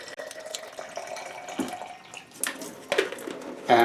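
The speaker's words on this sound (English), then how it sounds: "We can now fill it with nice cool water," Cool tap water runs into a cycling water bottle, a light trickling and splashing stream with a few louder gushes and drips near the end, close by and without talk.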